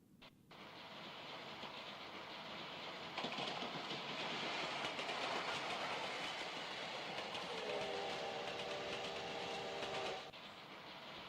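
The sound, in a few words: steam locomotive train running on rails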